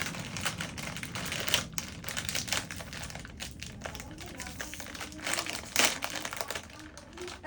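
A bag of Takis Volcano chips being torn open, with crinkly plastic rustling and crackling close up, fairly quiet, with soft sharper tearing bursts near the end.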